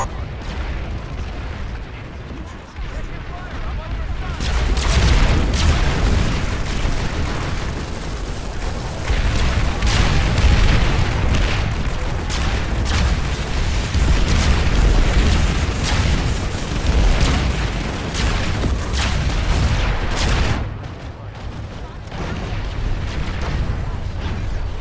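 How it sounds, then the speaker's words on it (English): Swarm missile explosions in the shooter Planetside, a sustained barrage of booming blasts and bursts lasting about sixteen seconds, loud and dense with rumbling low end, with talking over the action. "Those swarm missiles."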